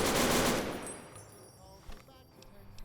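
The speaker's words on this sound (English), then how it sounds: "You can have some machine guns." Rapid bursts of machine gun fire from a World War II weapons mod in Fallout: New Vegas open loud and dense, then fade into quieter scattered shots and echoing tails.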